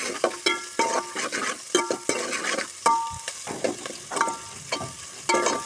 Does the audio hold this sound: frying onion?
yes